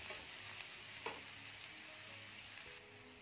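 Onion frying in a pan with a little salt, a faint, steady hissing sizzle with a few light stirring taps, no talking.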